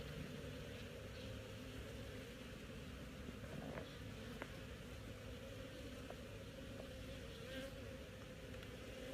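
Bees swarm around an opened beehive during a honey check, their steady buzzing hum filling the air evenly, with a few louder insects passing close by.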